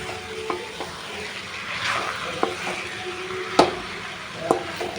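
Boiled noodles are stirred with masala in a frying pan, giving a steady hiss of sizzling with scattered scrapes and clinks of the spatula against the pan, close and continuous, no voices.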